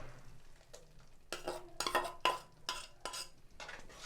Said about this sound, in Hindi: और इसे प्याज के साथ अच्छे से मिक्स कर लेंगे और इसे भी थोड़ी देर हम भून लेंगे